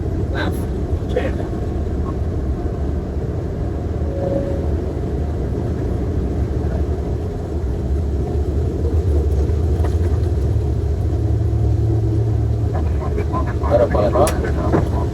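A steady, heavy engine rumble fills the cabin of an airliner taking off from Surabaya in rain and thunder. The roar holds constant throughout, while people talk quietly over it.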